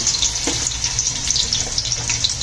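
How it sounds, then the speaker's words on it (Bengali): Thinly sliced onions frying in hot oil over high gas for chicken biryani, a bright steady crackling sizzle with occasional pops and faint stirring clatter, heard up close without any talking. "গ্যাসের থেকে হাই করে দিয়ে মিনিমাম দশ থেকে বারো মিনিট পেঁয়াজগুলোকে লাল লাল করে ভেজে নিতে হবে"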